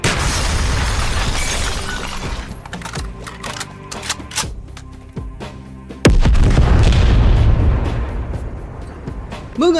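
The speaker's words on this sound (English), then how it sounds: "a comparison of the actual car explosions between the two games" Car explosions in Call of Duty Black Ops games: loud, dense bursts of booms, shattering debris and rapid crackling impacts, with a heavy blast partway through.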